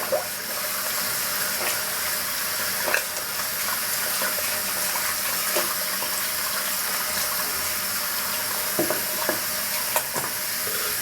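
Tap water runs steadily onto a shaving brush, a continuous, fairly loud splashing hiss with small clicks and drips, and no voices.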